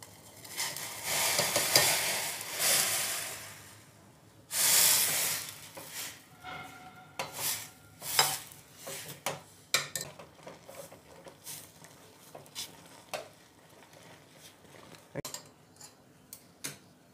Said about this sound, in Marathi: हे पीठ उकळत्या पाण्यामध्ये मिक्स करून